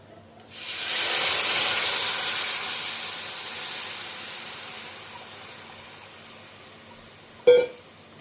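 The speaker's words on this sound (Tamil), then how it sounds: "இது புளி ஜலம் பச்சை வாசனை போகிற வரைக்கும் கொஞ்சம் கொதிக்கட்டும்" A loud steamy hiss bursts up as tamarind water bubbles in a pot, slowly fading, followed by a brief clink near the end.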